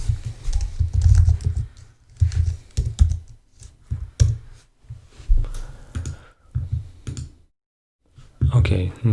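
Typing on a computer keyboard: close, crisp clusters of keystrokes arrive in quick bursts separated by short pauses, with a brief silent gap near the end before a final flurry.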